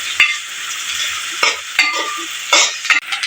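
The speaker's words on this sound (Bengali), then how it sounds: "পেঁয়াজগুলো একটু লালটি লালটি করে নিব ভেজে" Sliced onions fry in hot oil for a Bengali fish pulao, a constant bright sizzle broken by several sharp scraping clacks as a spatula stirs the pan, close and loud, with no talking.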